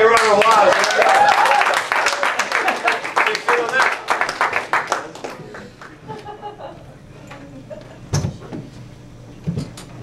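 A burst of clapping and cheering from a group, loud at first then thinning out, followed by a few scattered knocks and quiet.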